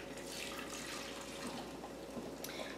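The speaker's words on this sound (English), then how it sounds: "pour it into an 8x4 loaf pan or something similar" Dissolved black gelatin pours steadily into an 8x4 loaf pan, a continuous soft liquid stream and splash heard close and alone for the whole stretch.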